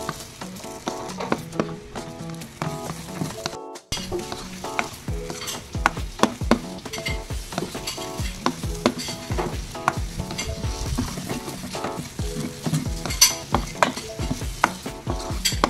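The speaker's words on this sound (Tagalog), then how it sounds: "haluin lang hanggang sa maluto ang ating itlog" Egg and eggplant being stirred in a frying pan, with a steady loud sizzle and repeated scraping and clinking of a utensil against the pan, and no voices.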